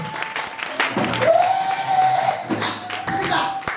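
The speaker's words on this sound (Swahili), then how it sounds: "Pigia Bwana makofi mazuri" Congregation clapping in a church service, a steady burst of applause and cheering close by with a sustained whistle-like tone over it.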